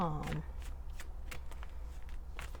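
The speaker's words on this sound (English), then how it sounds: "let's shuffle the clarifying deck" A tarot card deck is shuffled close by, giving soft, quiet riffles and flicks in an irregular rhythm, with a brief voice at the start.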